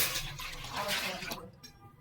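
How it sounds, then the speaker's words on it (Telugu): Pouring a litre of milk into a cooking pan on a stove: a steady liquid splash and trickle that runs for about a second and a half, then thins out and stops. "ఇప్పుడు దీంట్లోనే ఈ లీటర్ పాలు వేస్తున్నానండి."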